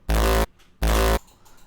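Two hits of a kick drum tail with added low end for extra warmth play one after the other, each a sustained, deep, round bass tone that stops sharply, with a brief gap between them.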